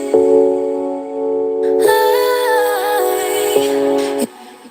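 Electric piano playing a sequence of sustained chords, changing every couple of seconds with a brief higher melodic line, no talking.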